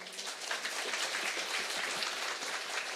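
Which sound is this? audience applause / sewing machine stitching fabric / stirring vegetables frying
audience applause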